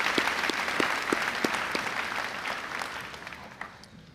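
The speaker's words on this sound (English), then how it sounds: "Can we have a round of applause for them?" Audience applause at a high school graduation ceremony, a burst of many hands clapping that gradually thins and fades over a few seconds.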